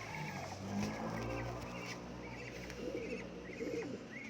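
Pigeons cooing in a loft or yard, soft repeated low coos blending with other bird calls over a steady outdoor background hum.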